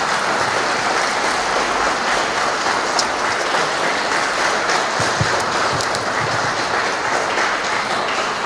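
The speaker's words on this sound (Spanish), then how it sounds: "Un fuerte aplauso a los nuevos esposos." Congregation applauding the newlyweds at a wedding mass in a church in León, Guanajuato, a dense, even roar of many hands clapping that holds steady throughout, with no voices over it.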